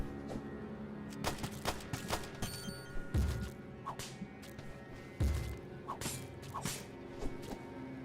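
Gunfire in the game Tombwater: sharp, whip-like shots and thumps fired irregularly at moderate distance over a quiet ambient drone, with no speech.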